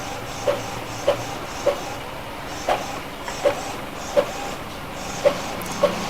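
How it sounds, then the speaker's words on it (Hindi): An Epson EcoTank L3210 printer pulls in a sheet and prints, giving a regular series of clicking mechanical knocks about every half second over a steady motor whir, close and fairly loud. "तो ये पेपर जो है खींच लिया है प्रिंटर ने। तो अभी यहाँ से पेपर बाहर आएगा।"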